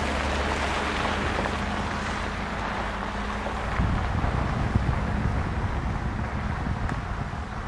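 Wind blows in a steady broadband rush, buffeting the microphone with low rumbles and gusting a little stronger halfway through.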